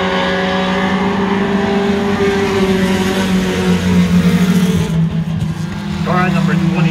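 Pure Stock race cars in a heat race on a track make a steady, droning engine roar that rises and shifts as cars pass, while an announcer talks over them throughout.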